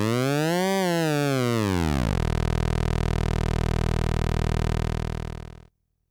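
A third-party oscillator on an AE Modular synthesizer gives a buzzy tone that sweeps up and back down, then settles into a steady very low drone before it cuts off.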